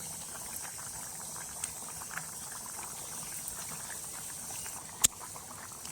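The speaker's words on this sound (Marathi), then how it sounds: "मिसळला आता चांगली अशी उकळी आलेली आहे" A pot of Kolhapuri matki misal simmers at a low steady bubble, producing faint continuous popping and hissing with one sharp clink near the end.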